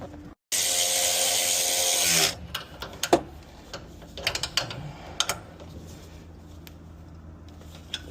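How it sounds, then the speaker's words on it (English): Ratchet tightening exhaust clamp bolts on a Borla S-Type cat-back system for a GMC 1500 5.6, close quick clicking bursts after a short loud hiss, then scattered metallic clicks and taps. "I'll tighten these down and get these tailpipes in."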